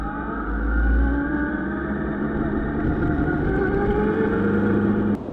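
A Kawasaki Z1000 motorcycle engine rumbles steadily, its exhaust crackling and popping throughout, with a brief surge partway through before it cuts out abruptly near the end.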